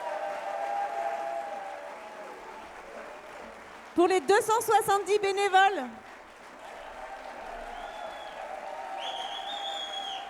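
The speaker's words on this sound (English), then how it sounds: "Est-ce qu'on peut faire un énorme applaudissement pour les techniciens" Audience at the Bluegrass in La Roche festival in August 2024 applauding, a loud burst of clapping and cheering lasting about two seconds, framed by someone talking into a microphone before and after.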